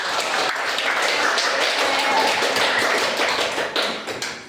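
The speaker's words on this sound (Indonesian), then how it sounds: "Oke, beri tepuk tangan untuk kalian." Students in a classroom clap for themselves, a steady wash of many hands clapping together that stays even throughout and tapers slightly at the end.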